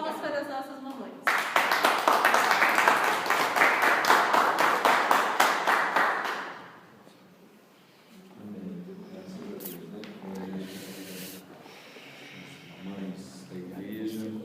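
A church congregation at a Mother's Day service breaks into brisk, close applause for several seconds, then it fades and a voice talks over a quiet room.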